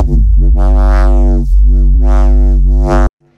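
A loud, dry synth bass plays a few sustained, harmonically rich notes in a simple phrase, then cuts off abruptly.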